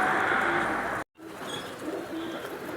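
Pigeons coo softly in an old Jammu city loft kept by a champion pigeon flyer, with low murmuring calls over a hissing outdoor background and a brief dropout in the middle.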